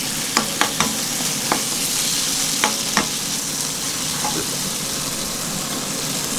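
Aloo tikki fry in a pan for Delhi railway-style street food, giving a steady, close broadband sizzle. A few sharp utensil taps land in the first three seconds, and no one speaks.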